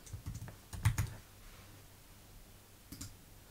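A password tapped out on a computer keyboard, a short cluster of close, crisp key clicks at the start and a couple more near the end, with quiet room tone between.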